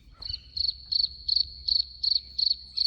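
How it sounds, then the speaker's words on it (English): Crickets chirping at night near a grave site in Canada, a high steady trill pulsing in eight even bursts about every third of a second, clear against a quiet background. "Yes, those are crickets you just heard"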